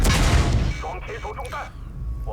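A high-explosive shell strikes a Chinese WZ-132 light tank in World of Tanks, fired by a T50: a loud, heavy blast that fades into quieter mechanical clanks and a lingering rumble.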